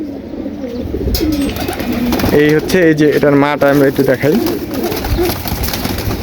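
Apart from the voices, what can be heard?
red plain pigeons cooing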